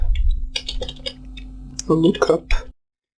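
Quick light clicks of typing on a computer keyboard, a short burst of keystrokes alongside someone speaking.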